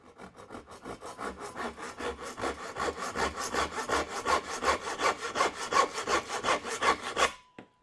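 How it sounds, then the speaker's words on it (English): A hand saw makes a 45-degree cut through wood in even back-and-forth strokes, about three per second, close and loud, before stopping abruptly. "cutting a 45 to reduce the bulk for when I do the belt sander on it"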